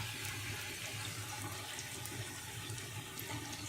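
Puri frying in very hot oil, giving a steady, faint, even sizzle and bubbling throughout with no talk.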